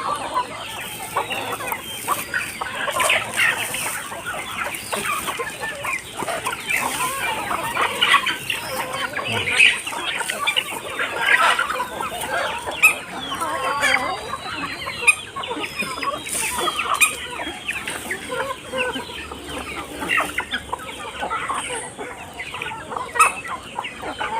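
Ducks on a small farm feed on scrap cabbage with a dense, steady chatter of fowl calls and pecking that runs unbroken for about 24 seconds at a moderate level. No one speaks.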